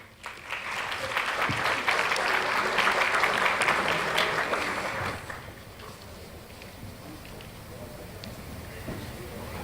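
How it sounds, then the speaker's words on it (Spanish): A strong round of audience applause at a panel discussion event in Mexico swells for about five seconds, then fades into quieter room noise with a brief voice afterward. "Démosle un fuerte aplauso, por favor"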